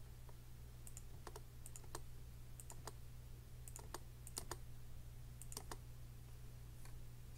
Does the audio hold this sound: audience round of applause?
no